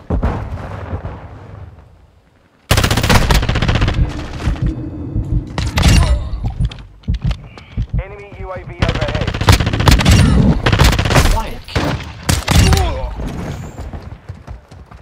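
Bursts of rapid automatic fire from the FR Advancer rifle in Modern Warfare II, loud and close, arriving in several volleys separated by short pauses, with game sound effects and occasional voices mixed in.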